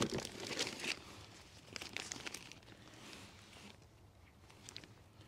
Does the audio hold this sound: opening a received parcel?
yes